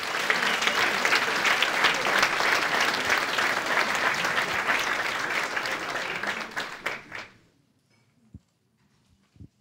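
At a school key-handover ceremony in Villach, Austria, a crowd claps loudly and continuously for several seconds, then the applause fades out into near silence with a couple of faint knocks.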